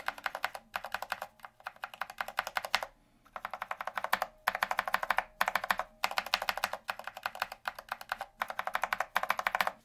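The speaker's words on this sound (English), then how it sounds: "the Cherry Blacks, unfilmed and filmed. Those keys actually just sound a lot different." Fast, steady typing on a mechanical keyboard fitted with Cherry Black switches, close and clear, in dense bursts of clacking keystrokes broken by a few short pauses.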